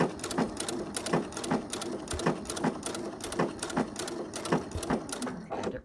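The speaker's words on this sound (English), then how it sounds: "I'm going to triple stitch back" A sewing machine runs a triple stitch, sewing back over previous stitching with a steady, fast mechanical chatter of evenly spaced needle strokes, loud and close, with no one speaking.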